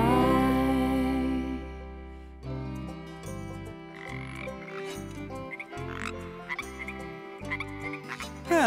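Frogs croaking in a bog, loud rhythmic throaty calls repeating in quick pulses, close and prominent with no talking over them.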